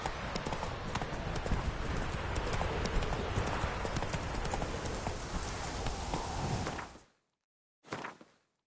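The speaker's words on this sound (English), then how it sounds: "Run, Roach" Galloping horse hooves from The Witcher 3 video game, a fast continuous clip-clop close up for about seven seconds, then cutting to near silence with one brief burst at the end.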